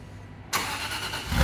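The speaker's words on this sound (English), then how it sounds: "Cold start on the ultra low miles Aston." An ultra-low-mileage Aston Martin cold start: the engine cranks and bursts to life with a sudden loud roar, then settles into a rough, rumbling idle that swells toward the end.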